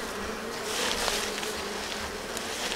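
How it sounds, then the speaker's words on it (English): Honey bees clustered in a beehive during an inspection, several thousand of them producing a dense, steady, close buzzing drone that holds without break. "Because the bees are clustered in this general area"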